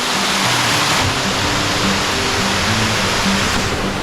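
A waterfall on the Peb Fort–Vikatgad trekking trail near Matheran roars in a steady, dense wash of rushing water, loud and close, with no voices over it.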